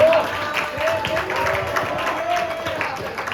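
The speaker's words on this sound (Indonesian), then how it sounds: "Tepuk tangan dong." An audience at a school student council debate claps in a scattered, modest round of applause, mixed with crowd murmur and nearby voices.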